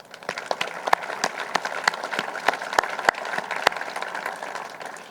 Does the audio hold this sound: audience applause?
yes